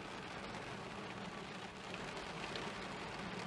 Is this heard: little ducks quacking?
no